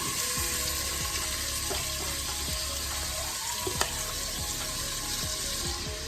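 Onions fry for a chicken curry, giving a loud, dense sizzle that carries on without a break, scattered with small crackles and scraping stir sounds; no one speaks.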